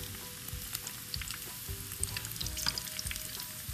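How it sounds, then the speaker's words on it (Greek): Vegetable fritters (loukoumades) frying in hot oil give a steady, dense crackling sizzle with small pops throughout, close and continuous with no voices. "Όσο τηγανίζεται αυτό,"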